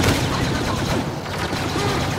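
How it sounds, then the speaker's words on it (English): Continuous loud gunfire in the Star Wars Battlefront video game, a dense, unbroken barrage of shots and blaster noise filling the whole moment, with a brief slight dip in the middle. "For the first time, I won a gun fight."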